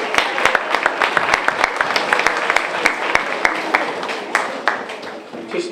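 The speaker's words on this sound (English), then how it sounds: "Let's have one more round of applause for these guys." Audience at a school stage event applauding students, with sharp individual claps standing out over a steady bed of clapping that thins slightly toward the end.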